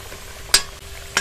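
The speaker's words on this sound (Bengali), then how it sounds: "আলুটা বেশ কিন্তু এরকম লাল করে ভাজা হয়ে গেছে" Potato pieces fry in hot oil with a steady, faint sizzle, broken by two sharp scraping clicks as they are turned in the pan; no one speaks.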